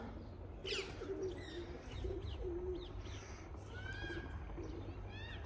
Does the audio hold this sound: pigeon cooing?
yes